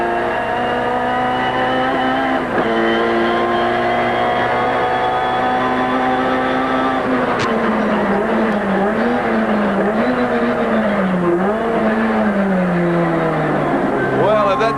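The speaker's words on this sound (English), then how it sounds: "Engine really revving. You can hear the Sierra doing everything it can to bridge the gap." Ford Sierra Group A race car screaming at high revs through gear changes at the 1989 Adelaide round, with Peter Brock pushing hard; a loud, sustained engine howl with pitch sweeps and wavering, under continuous commentary.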